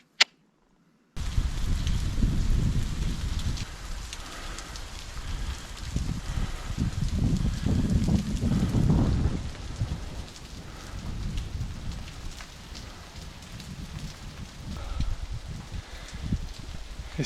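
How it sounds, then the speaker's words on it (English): Steady rain patters down in a canyon during a thunderstorm, with deep, rolling rumbles of distant thunder swelling and fading beneath it. "It's pretty when it rains,"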